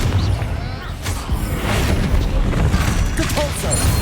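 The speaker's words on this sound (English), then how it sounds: "Confringo." A Confringo spell goes off in the game Hogwarts Legacy, a dense booming, crackling blast with rumbling debris that fills the clip, loud and close amid a busy combat mix, with a voice speaking briefly.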